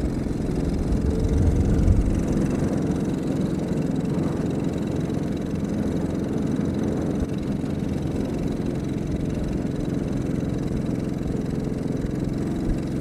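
Small single-seat Next Cruiser mini jeep with a notably underpowered engine pulling away in first gear, giving a steady, moderately loud mid-pitched drone that barely changes as it gains speed, with no talking.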